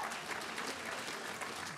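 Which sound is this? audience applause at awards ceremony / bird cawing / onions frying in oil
audience applause at awards ceremony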